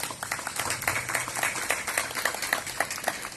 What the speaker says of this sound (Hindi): ऐसे हमारे माननीय सुनील सर के लिए जोरदार तालियां हो जाए।